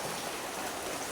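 Steady rain falls over an areca nut plantation, a constant dense hiss of drops on foliage at moderate loudness, with no voices.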